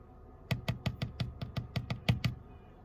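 A person knocks a quick run of about a dozen sharp, evenly spaced raps, imitating woodpeckers pecking on trees; close, dry and fairly quiet.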